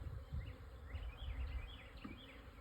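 Honey bees buzz steadily in a newly installed hive nuc, a dense, continuous drone with individual insects whining close by, alone without any talking.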